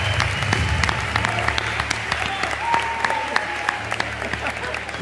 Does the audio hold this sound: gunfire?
no